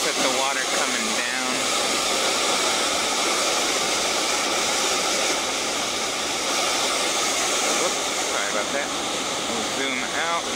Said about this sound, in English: And then we're just up close at the water coming down.